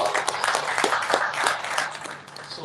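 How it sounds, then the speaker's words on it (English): Audience at an AI education equity event giving a short burst of applause, with individual claps audible in a lively, uneven patter that trails off toward the end. "A round of applause for us."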